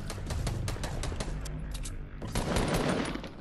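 Rapid bursts of gunfire in a Fortnite match, dense overlapping shots crackling continuously with a brief lull before another close, heavy volley.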